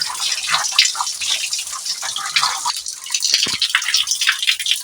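Tap water runs and splashes unevenly as a salted snakehead fish is rinsed clean in a kitchen, with close, bright gushes and drips throughout.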